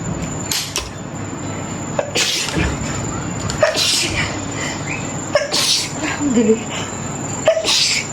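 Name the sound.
sneezing caused by the air conditioning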